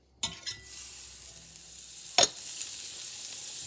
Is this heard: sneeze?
no